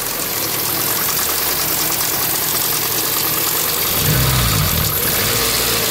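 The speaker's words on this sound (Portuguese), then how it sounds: "Olha o barulho que tá no motor, barulho extremamente estranho." A Ford Escort Zetec engine with a fault runs steadily with a rough, uneven rattling hum, swelling briefly louder near the end before settling back.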